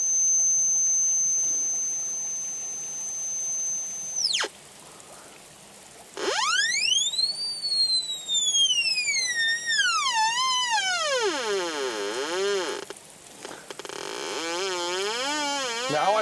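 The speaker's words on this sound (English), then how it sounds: "move my interference so that I no longer hear this high-pitched tone" A Black Hawk metal detector emits a steady high-pitched whine that cuts off, then a loud tone sweeps down in wavering, warbling glides before settling into a lower steady hum, with no voices.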